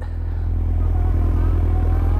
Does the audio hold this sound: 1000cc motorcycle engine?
yes